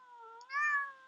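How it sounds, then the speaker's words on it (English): A cat meows over a Skype call, one drawn-out, rising and falling meow that swells louder in the middle, close and alone with no talking. "Stop meowing over Skype."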